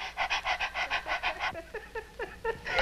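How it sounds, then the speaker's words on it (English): A woman in childbirth pants rapidly like a dog, a steady run of about ten quick, close breaths over the first half before the rhythm breaks into looser, irregular breathing sounds. "I want you to stop pushing down and pant like a dog"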